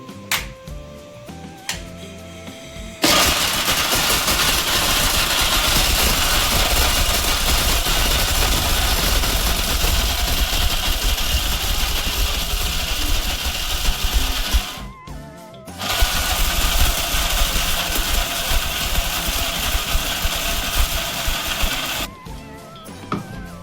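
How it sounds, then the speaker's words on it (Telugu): A kitchen mixer grinder whirs loudly as it grinds dates in its jar, running in two long bursts with brief pauses between, harsh and close with a rattling motor drone. "మిక్సీ జార్లో వేసి మిక్సీ పట్టుకోవాలి"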